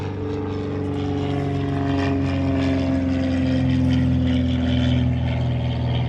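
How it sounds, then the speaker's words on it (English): An airplane flies over near Albany Airport, a loud steady engine drone with strong low tonal hum that swells slightly and stays continuous for several seconds, no talking. "Oh, by the way, that was an airplane."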